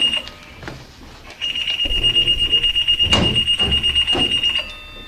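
A phone alarm goes off during a town board meeting, a shrill, steady electronic tone with rapid pulsing beeps that runs for several seconds. The alarm is loud and close, with room noise and murmuring voices underneath.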